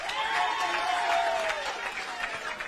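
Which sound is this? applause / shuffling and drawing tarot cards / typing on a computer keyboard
applause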